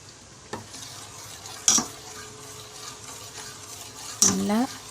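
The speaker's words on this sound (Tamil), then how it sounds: "நல்லா கிளறி விட்டுக்கோங்க" A utensil stirs caramelized sugar in a pan with a few sharp scraping clinks against the metal, spaced apart over a soft background sizzle, close and fairly quiet.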